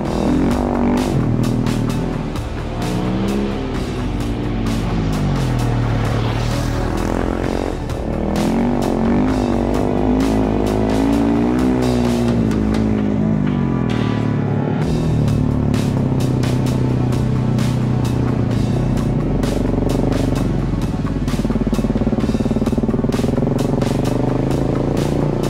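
A Husqvarna 701 Enduro runs on packed dirt with the throttle open, its engine note rising and falling as it pulls hard on open stretches, close and loud throughout.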